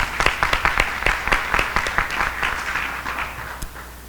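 An audience at an education accountability results event applauds in a steady round of clapping, with sharp individual claps standing out over a dense wash of hands, moderately loud throughout.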